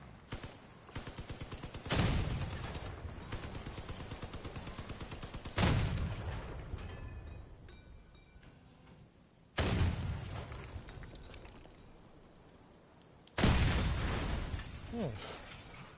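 Cannon fire in the vehicle combat game Crossout: four heavy, booming blasts spaced about four seconds apart, each fading out over a continuous rumble of engines and battle noise.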